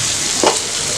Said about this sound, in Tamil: இதை வந்து நல்லா கலக்கி விடுங்க